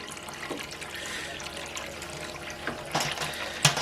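Water is pumped out through the tap of a BrewZilla Gen 4 brewing system with a steady flow, a few louder splashes and gurgles breaking through near the end.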